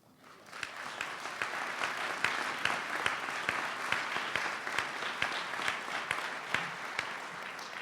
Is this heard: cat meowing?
no